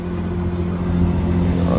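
A car engine hums and revs steadily in the video game GTA, Los Santos, during a midnight cruise meet, a loud continuous low drone that swells slightly toward the end.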